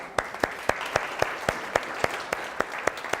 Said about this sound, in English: Come on down, give him a round of applause.